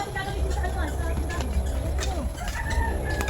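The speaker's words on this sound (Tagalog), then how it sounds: "May manok doon nagkakay." Chickens clucking and cooing nearby over a low background rumble, with people talking at the same time.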